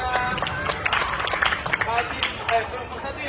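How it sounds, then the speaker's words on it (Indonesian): Students in a classroom or school yard clap for a group, with scattered, uneven applause and loud chatter from several voices and running footsteps. "Tepuk tangan untuk kelompok 3."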